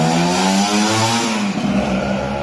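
Scorpio motorcycle fitted with a DPJ GP1 aftermarket exhaust revving loudly and close, a deep throaty drone rising and falling in pitch over about two seconds with no talking.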